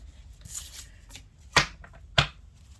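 Muse Tarot cards being shuffled by hand, soft papery riffling early on followed by two sharp, crisp card snaps a little over half a second apart, close and with no talking.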